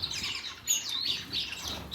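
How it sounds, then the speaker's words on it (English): A pair of star finches in an aviary flock gives soft, high chirps and tweets that repeat quickly over steady low background noise, close by and fairly quiet. "up here we've got another pair of star finches"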